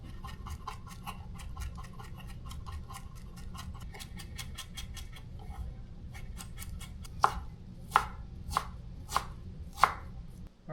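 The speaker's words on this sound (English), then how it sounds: "We'll have to slice our onion, some tomatoes, mangoes, and cilantro." Onion, tomatoes, mangoes and cilantro are chopped with a knife for a mango salad: a fast run of light cutting taps, then several slower, louder thuds on the board, close and with no talk.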